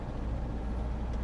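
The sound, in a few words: 1973 Citroen DS car driving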